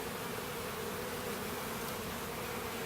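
Honey bees buzz at an open hive with foundationless frames during a February brood and drone check, a dense, steady droning hum close by with no voices.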